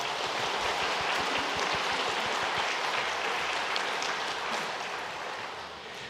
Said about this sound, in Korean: 환영의 박수 하도록 하겠습니다